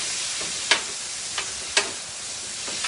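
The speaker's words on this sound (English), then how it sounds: "So we're just gonna mix it up together. We're gonna continue to work with this ground beef" Ground beef frying in a pan for loaded tater tot nachos: a steady, loud sizzle with three or four soft scrapes as the meat is stirred and broken up.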